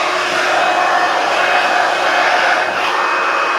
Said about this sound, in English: It's a hairbrush blow dryer.